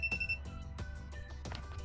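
An ANENG 683 touch screen digital multimeter sounds its non-contact voltage alert near a live wire, a faint series of rapid electronic beeps pulsing over a low background hum.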